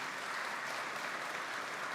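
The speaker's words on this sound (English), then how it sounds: "please keep the applause going" Steady applause from a keynote audience at an enterprise tech conference, a dense, even wash of clapping filling the hall for the whole stretch without pause or voices.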